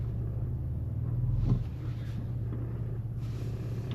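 Ford Ranger Raptor idling on a trail while shifting into 4 low rock crawl mode, a steady low engine rumble with a brief thunk partway through, fairly close and with no talk.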